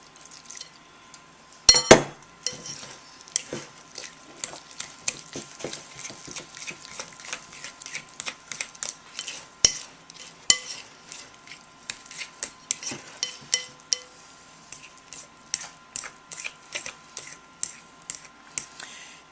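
Flour being slowly mixed into yeast cake dough in a bowl, heard as a long run of light clinks and scrapes of a utensil against the dish, irregular and close, with no talk.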